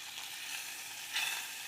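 Butter sizzling in a hot pan during a fish ball recipe: a brief, even hiss with a brighter swell of bubbling crackle near the end, close and unaccompanied by any voice.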